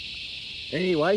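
Cicadas drone loudly and steadily in a shrill, continuous buzz, and someone briefly speaks over them near the end.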